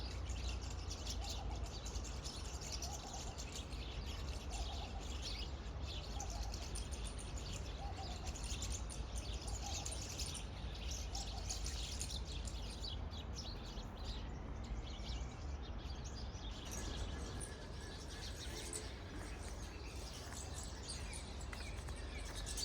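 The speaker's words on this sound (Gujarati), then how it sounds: "વાંસનું ઝાડ છે, આખા વાંસના ઝાડની અંદર ચકલા બેઠા બધી." Sparrows sit chirping inside a bamboo tree, their small repeated calls faint and somewhat distant over a steady outdoor hiss, with no voices.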